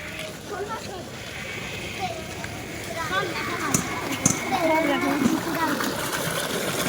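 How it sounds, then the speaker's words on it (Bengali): Heavy rain sends a lot of water flowing past in a steady rushing, splashing stream under nearby voices talking, with a few sharper splashes partway through. "দেখো এখানে কত জল যাচ্ছে। প্রচুর জল যাচ্ছে দিক দিয়ে।"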